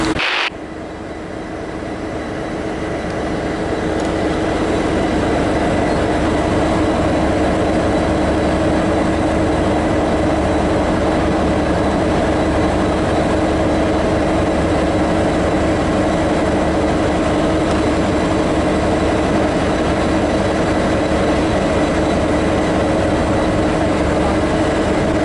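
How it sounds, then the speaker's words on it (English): V/Line H set passenger train standing at Bacchus Marsh station, a steady loud low engine and rail rumble with a constant hum running throughout, no talk over it. "So now we're at Bacchus Marsh train station."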